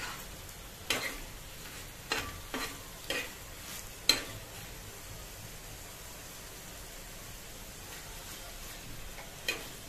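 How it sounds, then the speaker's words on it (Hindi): Kaleji (liver) frying slowly on a tawa griddle over low heat, a steady soft sizzle with a few sharp pops and stirring clicks scattered through, close and fairly quiet, no voices. "कलेजी पकते हुए 5 से 7 मिनट हो चुकी है।"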